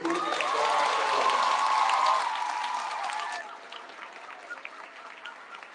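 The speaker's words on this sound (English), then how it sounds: "One more big round of applause for our Eastern Coast volleyball team" An audience at a middle school awards celebration applauds the volleyball team, sustained clapping with some cheering that holds strong for about three seconds and then thins out to scattered claps.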